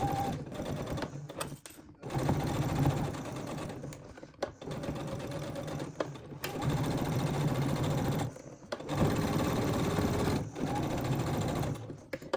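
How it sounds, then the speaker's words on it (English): A sewing machine stitches a make-up remover cloth in long steady runs of rapid mechanical whirring, broken by several short pauses where the needle stops and back stitching begins, close and fairly loud with no talking. "Let's go sew that."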